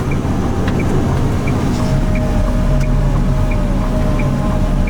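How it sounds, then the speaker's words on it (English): Steady, droning box truck engine rumble heard from inside the cab through the firewall, low and constant with a faint whine above it and no voices. "engine noise coming in through the cab from the firewall"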